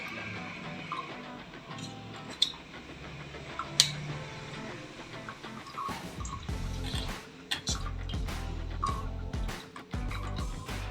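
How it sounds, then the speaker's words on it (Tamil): White pumpkin juice strained through a filter into a glass tumbler, a soft run of drips and trickling liquid that builds steadily, with occasional light clicks of glass near and close. "இப்போ இதை ஒரு கிளாஸ் டம்ளரில் நான் உங்களுக்கு ஃபில்டர் பண்ணி காட்டுறேன்."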